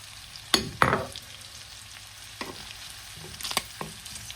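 Garlic frying in oil in a pan while being stirred for pork afritada: a soft continuous sizzle broken by a few sharp scraping stirs, close and fairly quiet, with no voices.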